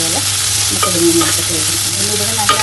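Brinjal sautéing in a hot pan for a curd curry, a steady close sizzle broken by the scrape and clatter of a spatula stirring the pieces, with no voices.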